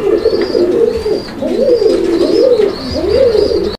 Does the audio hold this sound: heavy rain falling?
no